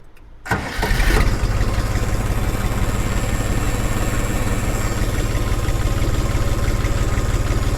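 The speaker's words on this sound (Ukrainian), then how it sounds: "Зараз запускаємо двигун." A cold Jinma 3244 HS mini tractor's diesel engine cranks briefly, catches and settles into a loud, steady, close-up idle with an even throbbing rhythm.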